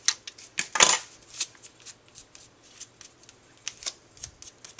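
Fancy scissors snip through paper balloon tails on a handmade birthday card, giving a few close, crisp cuts with one louder snip near the start, then soft scattered paper rustles and handling noises.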